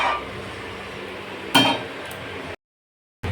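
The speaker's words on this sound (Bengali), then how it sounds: "এই দেখো বন্ধুরা ঢাকাটা এবার খুললাম" A lid is lifted off a pot of cooking shukto vegetables, giving one sharp metallic clink against a quiet kitchen hum, then a brief dead silence.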